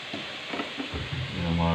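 Chicken mince frying in a pan for pasta, with short stir and scrape sounds followed by a rising, steady sizzle, close and moderately quiet.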